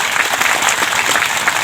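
Loud, dense applause from a crowd at a religious sermon gathering, continuous clapping filling the whole short stretch with no talk.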